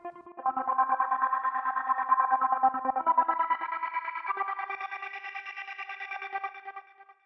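A sustained Parsec synthesizer patch in Reason plays a slow chord progression with a buzzy, chorused texture and gentle echo, fading out at the end.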